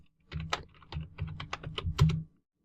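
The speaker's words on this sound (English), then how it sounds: "So let's type that in." Login credentials typed on a computer keyboard for a virtual lab machine, a quick run of crisp, close keystrokes in an uneven rhythm lasting about two seconds, then silence.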